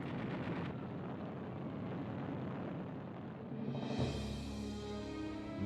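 Bombs explode among rows of parked US aircraft at Clark Field during a WWII raid, heard as a dense, continuous roaring rumble of blasts. A sharper, louder surge comes near the end.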